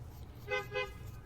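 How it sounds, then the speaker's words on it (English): Two short car horn toots in quick succession, moderately distant, over a low rumble of background noise. "Oh, neighbors honking."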